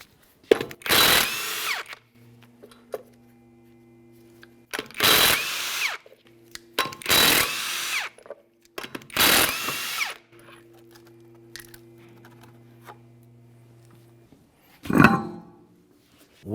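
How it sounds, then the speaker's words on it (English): Four loud bursts of a power impact tool or drill spinning off 19mm lug nuts from a 1994-1997 Honda Accord front wheel, each lasting about a second with quieter mechanical clicks between, then a final clunk as the wheel comes off. "continue on to removing all 4 of your 19mm lug nuts,"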